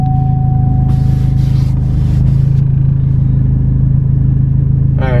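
A Chevrolet Cobalt SS engine running just after starting, a loud, steady low rumble at close range with a brief hiss of noise early on and no talk.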